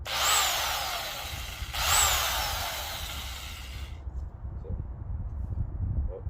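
A Harbor Freight Portland 1.5 hp electric pole saw cutting a tree limb: two loud whining bursts of the motor and chain, then it stops, leaving quiet outdoor background.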